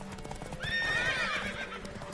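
A horse whinnies loudly over steady clip-clopping hooves in the video game The Witcher 3, the neigh rising and falling for about a second before the hoofbeats continue.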